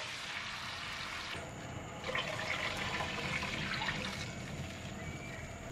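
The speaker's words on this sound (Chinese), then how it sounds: "然后往锅里倒入多一些的水进去" Water pours into a wok in a steady rushing stream with soft splashing that swells midway and keeps on without a break.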